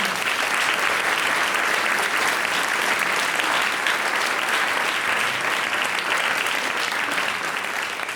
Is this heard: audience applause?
yes